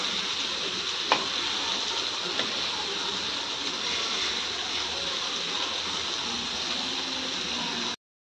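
Fish fries in a pan, turned to crisp on both sides, under a continuous moderate sizzle with an occasional spatula tap, before the sound cuts off abruptly at the end.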